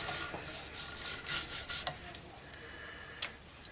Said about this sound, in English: I'm still applying the sanding sealant.